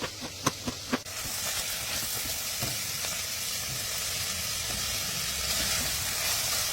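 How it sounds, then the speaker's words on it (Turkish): Onions and red kapya peppers sizzle steadily in hot oil in a pot, a continuous crackling hiss after a few brief clinks at the start. "kapyalarla birlikte birkaç dakika daha kavuruyorum."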